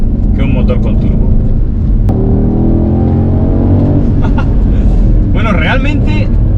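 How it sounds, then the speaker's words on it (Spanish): A Mercedes SL 63 AMG with its naturally aspirated V8 accelerates hard out of a bend, the engine note climbing loudly and steadily under someone talking inside the car, with a brief click partway through. "fijaos cómo entra el coche en la curva, salimos acelerando a fondo"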